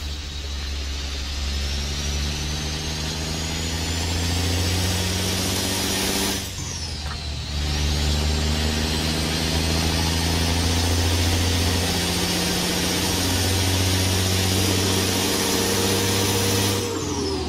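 Cat 3406E diesel engine on a truck idling steadily in American Truck Simulator, a deep continuous rumble near and loud, with a brief dip in the middle and no voices.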